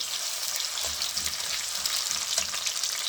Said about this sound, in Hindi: अब हम इसके अंदर टमाटर ऐड कर रहे हैं। टमाटर को हम अच्छी तरह भून लेंगे।